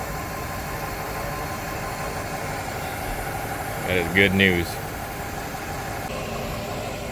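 An outboard boat engine idles steadily throughout, a low continuous rumble without knocking, with a brief spoken remark rising over it partway through.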